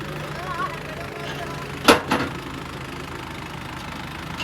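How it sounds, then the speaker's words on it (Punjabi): A tractor engine idles on a farm with a steady low drone, broken near the middle by two brief louder bursts. "ਇੱਧਰ ਮੈਂ ਟਰੈਕਟਰ ਲਿਆਉਣਾ"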